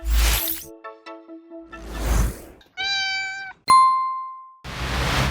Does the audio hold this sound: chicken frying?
no